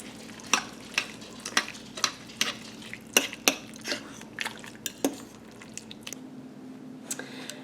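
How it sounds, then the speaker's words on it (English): Two forks shred a tender crock pot roast, giving wet squishy tearing and scraping sounds in irregular bursts with sharp clinks of metal against the pot, close and fairly quiet. "I'm going to take 2 forks and I'm going to start shredding this roast in here."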